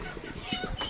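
A brief burst of chicken clucking at a poultry market, a few close, quick clucks over a busy background murmur.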